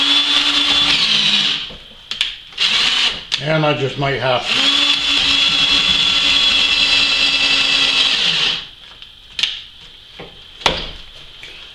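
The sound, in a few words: drilling brass with a 5/16 drill bit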